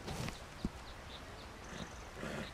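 A horse walks in Red Dead Redemption 2, with soft, scattered hoof clops over a steady outdoor ambience in the game and one sharper thump near the start.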